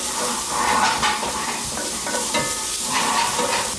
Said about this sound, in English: In goes some fresh ground black pepper in there as well. And hit that, another quick stir.